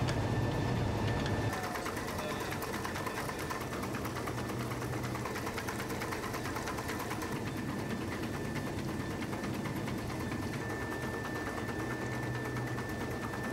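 A carding machine runs steadily in a wool spinning mill, a continuous mechanical drone with a fine rattling texture and a high whine, loud and unbroken throughout.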